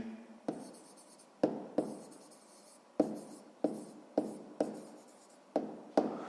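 Pen writing a maths answer on paper, heard as a series of sharp close taps and short scratchy strokes in an irregular rhythm, about a dozen marks, with no voices.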